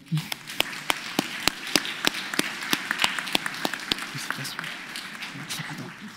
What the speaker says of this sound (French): Je pense qu'on peut applaudir notre sœur.